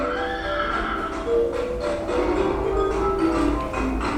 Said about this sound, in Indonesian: Ada 2 kuda.